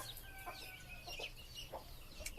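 Several chickens in a small backyard coop cluck in short, repeated bursts at close range, scattered over a steady low rumble, with no talking.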